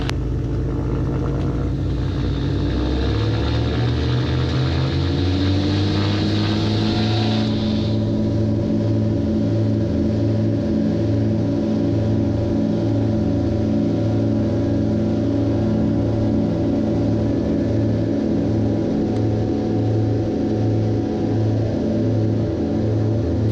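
The twin engines of a Twin Commander aircraft departing a runway, taking off and climbing: a loud, continuous droning roar with steady pulsing tones that rise in pitch early on and then hold even.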